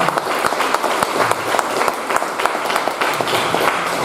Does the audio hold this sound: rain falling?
no